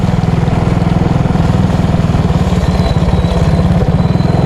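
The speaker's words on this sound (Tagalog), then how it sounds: "Iba talaga pag motor." A motorcycle engine drones steadily and loudly up close throughout, a rapid regular pulsing throb with rattling clatter, as the bike rides along a road.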